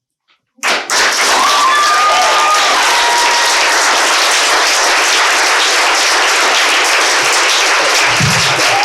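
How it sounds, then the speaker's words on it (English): An audience at a youth poetry slam breaks into sudden, loud, sustained applause that continues steadily for several seconds with a few scattered thumps near the end. "Make some noise one more time for Maximilian."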